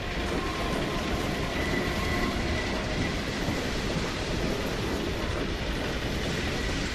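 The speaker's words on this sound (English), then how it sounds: "train with more guys" Train passing in the video game Half-Life 2: a dense, loud, continuous rumble of railcars with a steady rolling clatter and a faint wheel tone, heard alone without a break.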